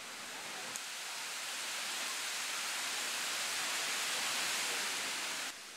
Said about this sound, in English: The Ceahlău Massif hides one of the most impressive waterfalls in Romania, namely Cascada Duruitoarea.